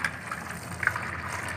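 Water poured from a basin into a used vegetable oil bottle being rinsed, a short steady gushing splash heard close up with no talking.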